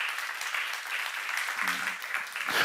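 A church congregation at a seminar breaks into a sustained wash of applause that stays at an even moderate level. A voice briefly rises over it near the end.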